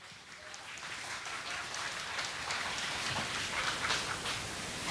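Steady, fairly distant applause from a ceremony audience at a launch event in Daejeon, South Korea, welcoming a guest. The dense patter of clapping holds evenly for several seconds with no voices.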